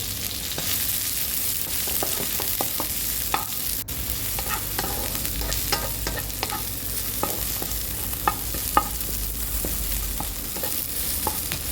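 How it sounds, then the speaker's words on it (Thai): Chili and garlic stir-fry in a little leftover oil for a mushroom and tofu dish, giving a continuous close sizzle broken by frequent sharp spatula scrapes and taps. "ใส่พริกกระเทียมลงไปค่ะ ผัดให้หอมค่ะ"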